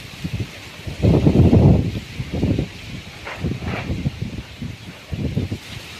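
Strong gusts of wind roar and rustle through leaves outdoors, swelling in loud surges with hissing buffeting against the microphone between them, with no clear talking.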